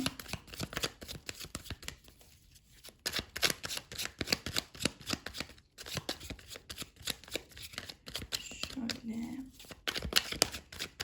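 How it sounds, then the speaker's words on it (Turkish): A deck of fortune-telling cards shuffled by hand at close range, rapid riffling flutters in repeated bursts with short pauses, a voice speaking briefly near the end. "Evet desteği karıştırıyorum."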